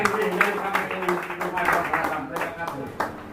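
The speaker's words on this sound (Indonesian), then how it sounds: "kasih tepuk tangan dulu" Scattered audience clapping at a regional political gathering, a dense patter of hands running for a few seconds with murmured voices underneath.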